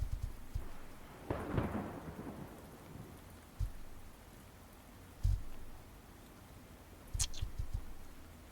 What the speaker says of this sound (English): This really is the dark and stormy night.